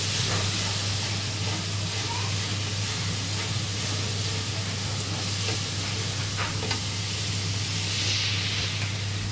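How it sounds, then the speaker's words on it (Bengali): Beef with masala spices fries in a pan, a loud, constant close sizzle and hiss with a few faint clinks of stirring, no voices. "এখন গরু মাংস মশলাটা বসানো হবে।"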